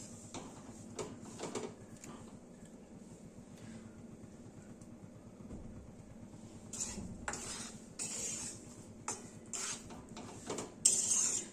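Green moong flour roasting in ghee in a pan for moong dal halwa, with faint, intermittent scraping and metallic clatter of a spatula against the pan.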